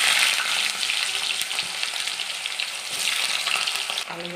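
Small diced potatoes frying in hot oil with cumin seeds and two bay leaves, a bright close sizzle with occasional stirring scrapes, continuous and fairly loud, ending in a brief clatter.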